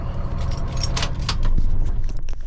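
Keys jangle in bursts of bright metallic clinks, close to the mic, while a truck used for hauling a skip loader idles or rumbles low in the background.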